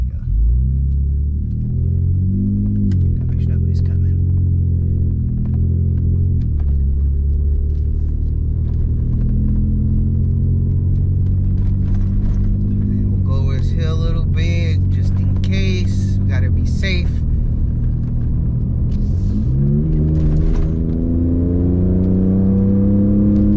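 A 2020 Ford Raptor pickup's aftermarket exhaust drones low and steady, muffled as if heard from inside the cab with windows up, swelling as the engine revs up and settling back, continuous throughout.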